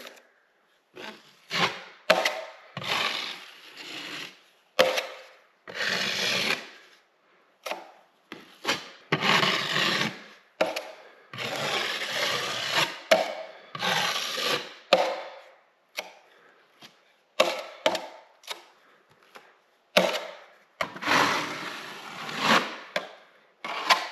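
A light first coat is spread over a surface during a guest house renovation, heard as repeated rubbing, brushing strokes in irregular bursts separated by short pauses.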